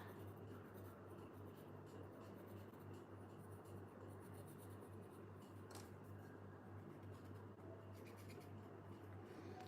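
Soft graphite pencil shading on paper during a Zentangle drawing, a faint, steady scratchy rubbing that continues without pause in a quiet room, with no voices.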